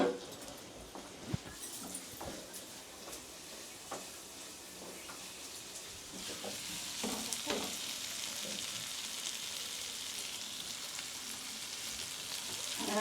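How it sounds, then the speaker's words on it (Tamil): Ginger garlic paste and masala sauté in a pan with a soft, steady sizzle, punctuated by scattered clinks and stirring scrapes. The frying grows a little louder and denser partway through. "அது வரைக்கும் கொஞ்சம் வதக்கிட்டு அதுக்கடுத்து என்னது பன்னீரையும் மசாலா போடலாம்"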